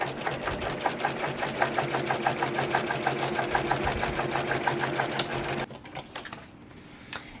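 A sewing machine stitches a quilted shoulder bag's main lining near the zipper, a fast steady mechanical chatter running close and loud for several seconds before stopping, leaving quieter handling noise.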